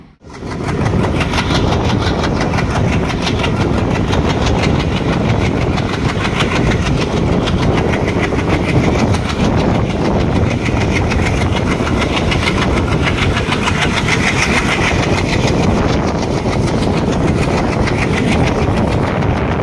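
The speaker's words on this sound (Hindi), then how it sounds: "और ये चल दी ट्रेन।" Jogbani to Danapur Express pulling out of a station: a loud, steady rumble of engine and rolling wagons with rhythmic clickety-clack of wheels over rail joints, continuous and close throughout.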